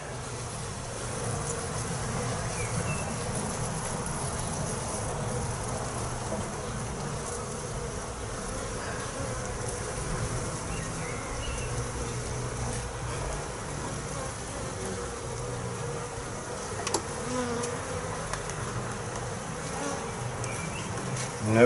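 Honey bees hum and buzz densely around an opened hive during inspection of a swarm and a split, a constant close swarm drone with faint handling noises and no voices.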